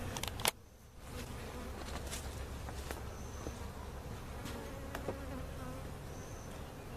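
Honeybees from a queenless laying-worker hive buzz in a dense, continuous drone close by, with a sharp knock near the start and a few individual bees whining past.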